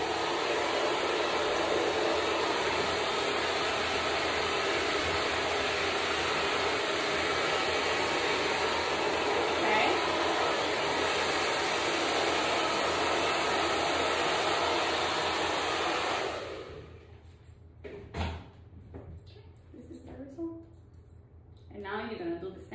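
A hair blow dryer blows over a brush during hair styling, a loud, steady, close-up rushing roar that runs unbroken for about sixteen seconds, then cuts off, leaving a person talking.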